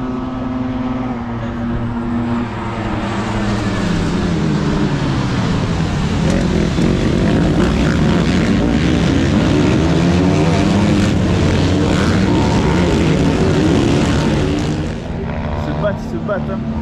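Quad bikes raced by kids at a big French quad event, a sustained loud engine drone with shifting revs throughout, broad and continuous, with people talking over it.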